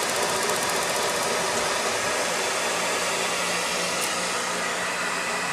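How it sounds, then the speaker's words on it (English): A gas furnace burner fires up on the second lighting attempt and keeps burning with a loud, steady, broadband roar close by, without pause. "we got ignition on this first burner after the second attempt of lighting"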